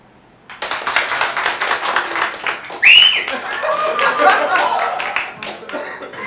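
An improv comedy audience in St. Pete bursts into applause to vote for a performer, with dense, steady clapping from about half a second to the end, mixed with scattered laughter and voices.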